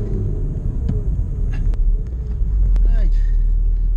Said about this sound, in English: There's a big lorry just coming in.